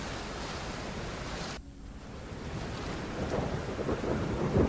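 Heavy monsoon downpour in Maharashtra's Junnar area, where torrential rain has flooded the Meena river: a dense, even hiss of rain with a low rumbling undertone, fairly soft, briefly dipping and then swelling slightly stronger.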